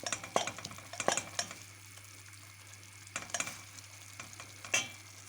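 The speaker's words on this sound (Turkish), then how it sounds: "Biraz kıyma tek başına pişsin böyle." Minced meat cooks alone in a pan, a soft steady sizzle broken by a few sharp clacks of a utensil scraping and stirring, close and fairly quiet.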